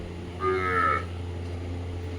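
A single loud, close cow moo lasting about half a second, over a steady low hum, with no talking.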